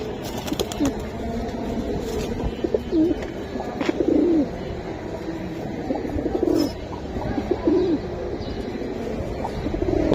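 Military pigeons, a hen and a cock, coo repeatedly in soft rounded phrases, fairly close, over a steady background hum with occasional rustling.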